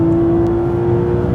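A Porsche 911 GT3 RS 4.0, the final 997 GT3, drives hard on the Silverstone track with its engine roaring loud and close in a sustained, steady high-rpm howl, no voices present.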